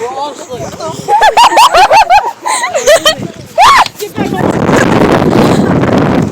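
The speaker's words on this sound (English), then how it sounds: "Oh, it's windy." Strong, steady wind roaring into the microphone after a stretch of lively singing and talking voices.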